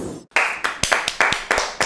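A production crew applauds with a short, sparse burst of about eight sharp hand claps at an uneven pace, close and fairly loud, with no talking.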